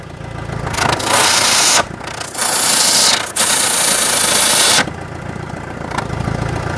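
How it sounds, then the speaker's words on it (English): Citroën Berlingo diesel revving through a newly fitted exhaust, several loud rising throttle blips with short drops back to a rattly idle between them, close by. "Yeah, that seems good. Good exhaust note."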